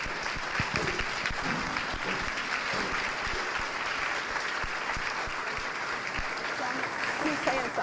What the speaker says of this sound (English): Let's have a round of applause for Mrs. Graziano's class.